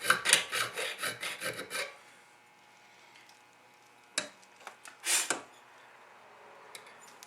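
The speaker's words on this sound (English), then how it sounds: "keep your file fairly square, you know, going perpendicular across the shank of the pan" A metal file rasps across the steel pan of a Victor trap in a quick run of close back-and-forth strokes, then quiet, followed by a couple of isolated scraping passes.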